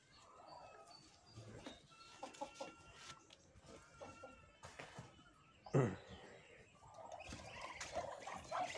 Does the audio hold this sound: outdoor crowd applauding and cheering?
no